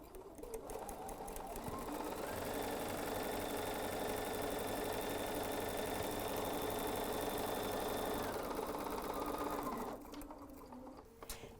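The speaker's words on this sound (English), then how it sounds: "So let's get started sewing directly on that line." A BERNINA 770 sewing machine stitches a quilt with a steady, continuous motor whir and needle rhythm for roughly eight seconds, starting and stopping cleanly, close and loud, with no talking.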